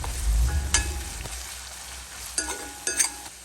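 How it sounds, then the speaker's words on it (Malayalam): Sliced onions fry in a pan of hot oil for a Kerala-style beef roast, a steady close sizzle with a few sharp scraping clinks of a spoon stirring against the pan. "നമ്മൾ ഉള്ളി അത്യാവശ്യത്തിന് വെന്തോട്ടെ."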